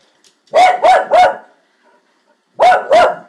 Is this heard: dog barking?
yes